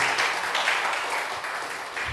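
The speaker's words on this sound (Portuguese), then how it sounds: "Vamos aplaudir ele mais uma vez, bem forte, irmãos." A church congregation applauding a preacher again, sustained even clapping filling the room for a couple of seconds without speech.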